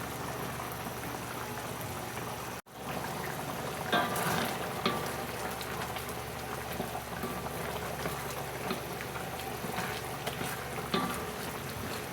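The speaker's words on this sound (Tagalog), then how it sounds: "Haluin natin to ng haluin hanggang sa ito ay lumapot." Dinuguan, a pork blood stew, thickening in a pot, bubbling and popping softly and steadily with occasional spoon scrapes and clinks, quiet and close, after a brief cut near the start.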